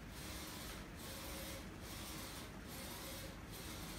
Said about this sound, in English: We tested the printer again.